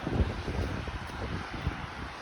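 Strong wind outdoors along a neighbourhood road buffets a handheld phone microphone, a low rumbling roar with uneven gusts and thumps, no voices heard.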